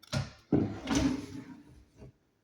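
A crooked kitchen drawer is opened and closed in a poorly renovated house, giving several scraping, rumbling slides and knocks, each one short and close, with a final softer bump.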